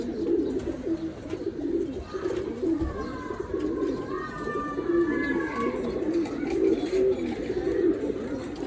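Pigeons kept on a home balcony coo steadily in soft, repeated throaty calls nearby, with a few higher bird notes over a low background murmur.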